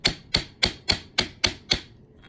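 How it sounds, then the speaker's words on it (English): Seven sharp, evenly spaced knocks as a plastic hammer taps a metal coin ring off a ring mandrel, crisp and close, with quiet between strikes and no voices. "it allows you to knock rings off mandrels without damaging the ring"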